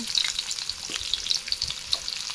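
Onion, tomato and brinjal fry in oil for a brinjal gravy, giving a continuous close crackling sizzle with light stirring movements throughout.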